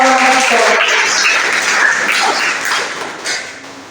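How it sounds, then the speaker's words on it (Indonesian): Student audience clapping for student council (OSIS) candidates after a vision and mission presentation at a school; dense, loud applause with a few stray voices that thins out toward the end. "Silakan berikan tepuk tangan sekali lagi untuk paslon nomor"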